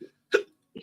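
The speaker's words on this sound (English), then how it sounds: "Damn, I got the hiccups." Person with the hiccups giving one sharp, close hiccup between two softer, brief vocal catches in an otherwise quiet room.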